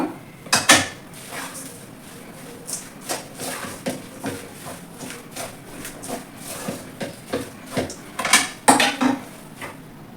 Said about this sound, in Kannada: ಇದನ್ನ ಫುಲ್ ಮಿಕ್ಸ್ ಮಾಡ್ಕೊಳ್ಳೋಣ ಈಗ